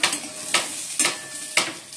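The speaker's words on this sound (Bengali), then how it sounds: "আর আলুগুলো ভাজছি।" Potatoes frying in a pan, with a steady sizzle broken by regular bursts of stirring and scraping about every half second.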